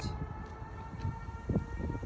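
A civil defense siren sounds a tornado warning outdoors in Canada, a steady sustained wail heard from a distance over rumbling background noise.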